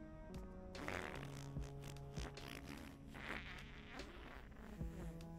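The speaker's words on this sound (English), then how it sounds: "That was a regular old fart" Cartoonish fart in a video game, a short buzzing flatulent burst among clutter of game effects and music, faint.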